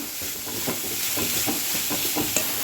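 Vegetables sizzle and crackle in hot coconut oil in a pan, with soft stirring and scraping sounds at an uneven rhythm, close and fairly loud.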